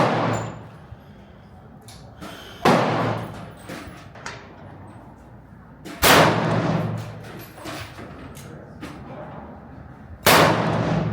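Three loud, sharp rifle shots from a Springfield 2020 Waypoint during barrel break-in, spaced several seconds apart, each with a long outdoor echo tail.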